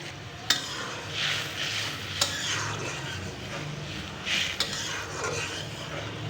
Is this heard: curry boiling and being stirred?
yes